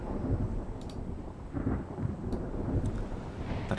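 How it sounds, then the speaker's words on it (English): Thunder rumbles under steady rain during a storm in a naval warship game, with low rolling booms and a few sharp crackles over a constant wash of rainfall. "Bloody storms."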